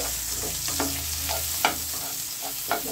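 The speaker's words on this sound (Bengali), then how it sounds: "এবার এটাকে একটু নেড়ে চেড়ে দিচ্ছি" Hilsa fish with salt and turmeric is stirred in a frying pan, a soft steady sizzle broken by a few sharp scraping knocks of the spatula, with no talking.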